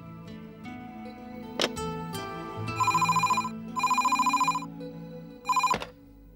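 A telephone rings with an incoming call in three long electronic trill bursts, loud and close, each a steady buzzing ring, with softer background sounds and a sharp click before the first ring.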